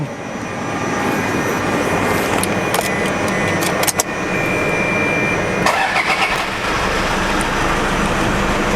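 A Toyota Fortuner VNT TRD Sportivo with a turbo engine starts up in a parking area, then settles into a loud, steady, close roar that runs unbroken, with no voices.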